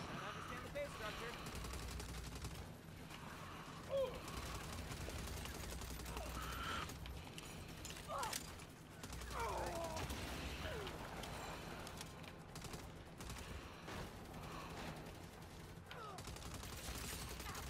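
Rapid gunfire bursts from a Saints Row video game, dense and continuous over a steady game soundtrack, with a few sharper shot peaks standing out and a voice speaking at times.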